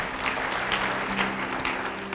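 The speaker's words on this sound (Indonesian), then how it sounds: "Beri tepuk tangan." Church congregation clapping, a busy steady patter of many hands filling the room with a faint low hum running beneath.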